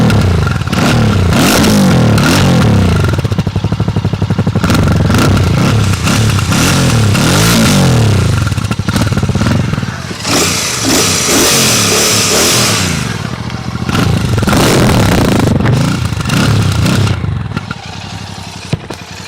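A Royal Enfield Classic 650 Twin motorcycle engine revving up and down repeatedly, loud and close, with throaty rising and falling bursts and a brief idle lull in the middle.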